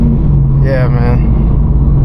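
A tuned Pontiac G8 engine runs at a steady deep drone, with a person talking over it briefly.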